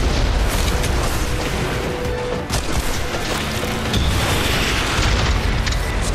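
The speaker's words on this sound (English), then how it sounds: "aim is of no concern with a thermobaric rocket launcher. A single shot can take out an entire four-story complex" A thermobaric rocket launcher blast from the video game Red Faction: Guerrilla levels a four-story complex. A loud, continuous roar of explosion and collapsing debris fills the whole stretch without let-up, with no voices.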